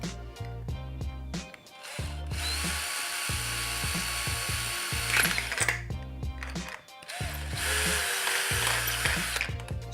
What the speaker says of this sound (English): Right, time to drill the hole in the tin.